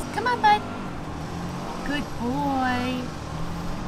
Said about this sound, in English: I'm really sorry for the noise. People be cutting their lawns.